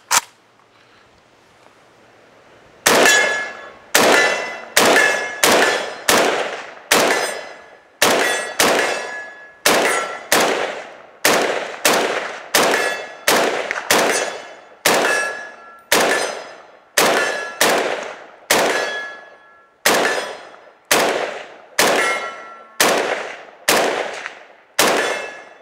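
A FEG AMD-65 rifle fires more than twenty loud, sharp shots one after another at a fairly steady pace, each ringing out with a metallic clang and decaying echo, after a brief near-silent start with no talking.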